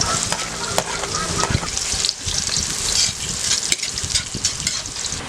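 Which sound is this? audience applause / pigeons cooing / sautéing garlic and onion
sautéing garlic and onion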